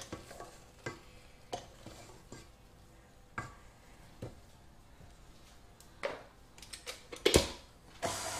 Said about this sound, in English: I'm just folding that in carefully like that